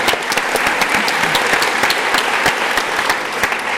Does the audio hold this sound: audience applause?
yes